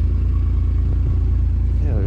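Kawasaki Mule utility vehicle (2020) driving off, its engine humming at a steady mid-pitched drone with a slight rising rev at the very end, close and continuous.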